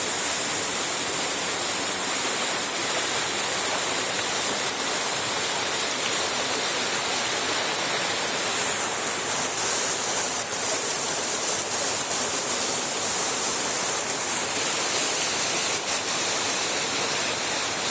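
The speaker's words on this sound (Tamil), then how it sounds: "இந்த அருவி பார்த்தீங்கன்னா கிட்டத்தட்ட ஒரு 20 அடிக்கு மேலே அந்த ஊற்றுது." A waterfall in the Kolli hills drops more than 20 feet, and its rushing, hissing roar holds steady and dense the whole time, with no voices.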